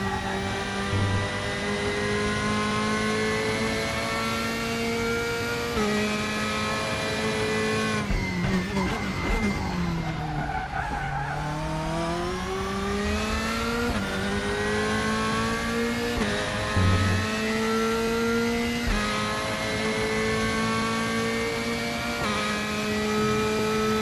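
Race car engine in the RaceRoom racing game, a loud continuous high-revving drone that rises and falls through gear shifts and corners, with a deep dip and climb in pitch midway through a lap.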